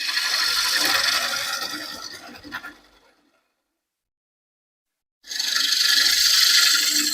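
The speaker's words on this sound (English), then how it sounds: "I'll end up switching to a bowl scraper." A bowl scraper rasps against a wooden bowl spinning on a woodturning lathe, a loud, close, continuous scraping that stops for about two seconds of silence and then resumes.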